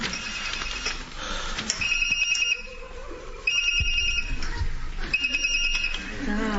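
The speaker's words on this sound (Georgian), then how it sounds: "გამორთე ხლა ეს ტელეფონი ან უპასუხე" A mobile phone ringtone chirps in repeated bright bursts amid people talking nearby in a busy city setting.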